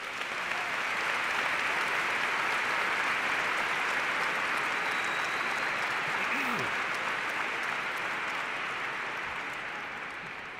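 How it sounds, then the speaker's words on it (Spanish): A large crowd at the inauguration of an archbishop's pastoral ministry in La Plata claps in sustained, dense applause that stays loud and even for about ten seconds before easing slightly toward the end. "Un aplauso para Ensenada."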